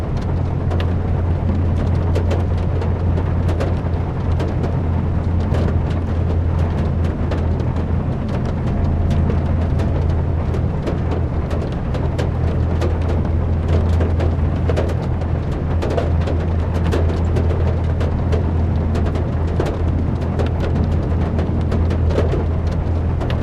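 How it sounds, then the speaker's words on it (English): Rain in the ship simulator game Seafarer: The Ship Sim, a steady dense patter of rain striking the vessel over a constant low engine hum, loud and unbroken throughout. "I like the sound of the rain hitting the thing."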